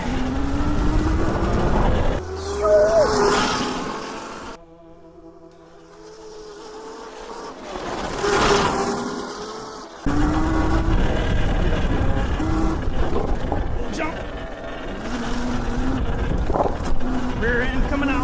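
A Yozma IN 10 electric dirt bike rides off-road, its loud chain whirring and buzzing steadily up close, swelling and dipping with speed, under a rider's talk and wind.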